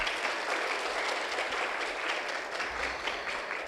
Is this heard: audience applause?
yes